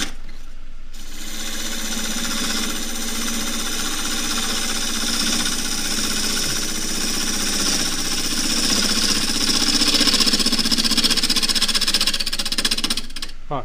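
A half-inch spindle gouge cuts a claret ash natural-edge bowl on a wood lathe, giving a steady, loud, continuous rough shearing and rumbling hum that swells slightly toward the end, with no talking.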